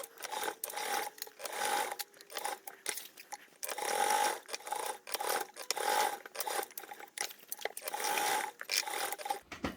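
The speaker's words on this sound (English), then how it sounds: "I've basted around the perimeter and sewn it down" A sewing machine stitches around the perimeter of a fabric tote bag in quick rhythmic bursts of whirring needle action, pausing briefly between runs, close and fairly loud with no talking.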